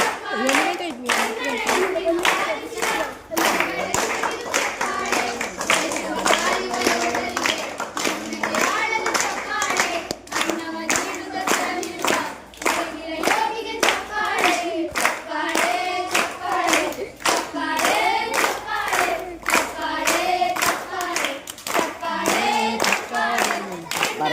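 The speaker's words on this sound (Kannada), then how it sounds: "ಚಪ್ಪಾಳೆ ಚಪ್ಪಾಳೆ ಚಪ್ಪಾಳೆ ಚಪ್ಪಾಳೆ ಚಪ್ಪಾಳೆ ಚಪ್ಪಾಳೆ ಚಪ್ಪಾಳೆ" Children and adults at a school Independence Day celebration clap together, a dense, loud, continuous round of applause lasting the whole stretch, with voices mixed in.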